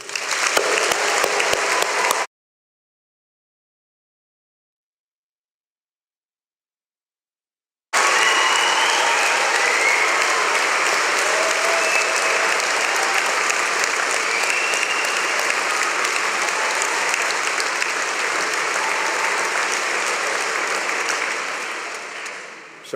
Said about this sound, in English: let's start today's ceremony by giving our amazing graduates a huge round of applause